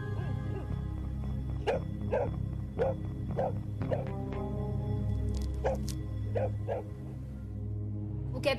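A dog barks in a regular series of about ten sharp, evenly spaced yaps over a low steady hum of background sound, with no talking.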